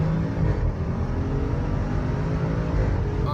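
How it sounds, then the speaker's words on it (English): An Audi RS7 accelerates hard, producing a steady, loud engine drone and whir heard from inside the car, continuous without breaks or voices. "that was a good acceleration test"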